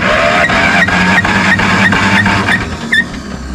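A Ferguson TO20 tractor's starter, engaged through the shifter linkage, cranks the engine with a steady rhythmic chugging pulse and mechanical whine, close and loud, ending in a short clunk.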